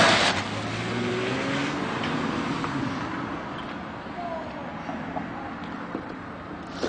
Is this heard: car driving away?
yes